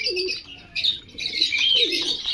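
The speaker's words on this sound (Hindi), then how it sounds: "ये एक निशावरा कबूतर है, माशाल्लाह बहुत ही नायाब कबूतर है" Pigeons cooing softly, two low warbling coos with brighter chirping and fluttering in between, close and clear.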